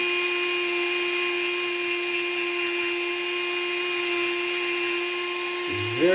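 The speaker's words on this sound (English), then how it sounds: "grab a Dremel tool" A Dremel rotary tool grinds the bottom of a lithium battery cell flat with light pressure, producing a steady high-pitched whir with stable tonal whine throughout, ending with a brief pitch shift as it spins down.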